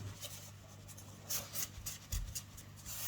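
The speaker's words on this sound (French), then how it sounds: "On passe un coup de plioir pour faire bien adhérer tout ça." A bone folder rubs over freshly glued paper in short, dry scraping strokes, quiet and close, repeating in an uneven rhythm over a low background hum.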